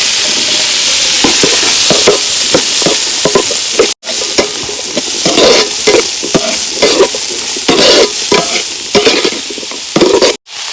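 Garlic, capsicum and onion frying in a pan for white sauce pasta, a constant loud sizzle broken by repeated scraping stirs, with two brief cuts to silence.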